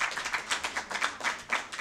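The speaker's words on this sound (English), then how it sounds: "A clap for Irene again." An audience at a panel discussion on media and women in politics gives a short burst of clapping, quick dense claps from a modest crowd heard up close and fading out.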